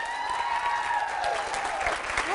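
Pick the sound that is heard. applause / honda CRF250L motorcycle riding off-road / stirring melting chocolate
applause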